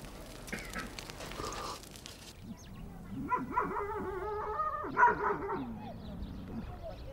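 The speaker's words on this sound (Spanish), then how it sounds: "Son los mastines tibetanos, un perro de gran tamaño y muy musculoso." Tibetan mastiffs, large and very muscular guard dogs at a nomad tent entrance on the Tibetan plateau, bark in a few loud, resonant bursts and yips at mid distance, with some voices mixed in.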